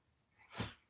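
A single short sneeze bursts out sharply and fades within a second. It is fairly quiet, with nothing else around it.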